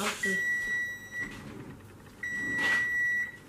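Two long, steady electronic beeps about a second apart from an Instant Pot pressure cooker signaling rice is done, fairly loud and close, over faint room noise.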